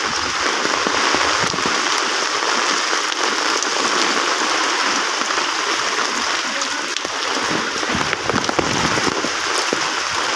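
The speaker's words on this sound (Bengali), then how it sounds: "এতটা বৃষ্টি আসলে আগে দেখা যায়নি।" Heavy rain pours onto a flooded VIP road in Khulna during a storm, a dense, steady roar of hiss and splatter that stays loud and unbroken throughout, with no voices.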